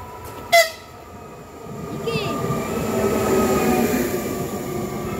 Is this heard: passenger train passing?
yes